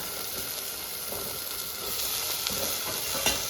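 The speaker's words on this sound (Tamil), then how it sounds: "இப்போ இதில் வந்து நம்ம காய்கறியில் போட்டுடலாம் முருங்கைக்காய் கத்திரிக்காய்" Drumstick and brinjal pieces drop into sautéed tomatoes in a hot pan, bringing a steady close sizzle and hiss with light stirring, no voices.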